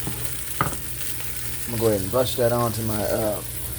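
Oxtails simmer in a pot with a steady, close sizzling bubble throughout, while a voice talks over it in the second half.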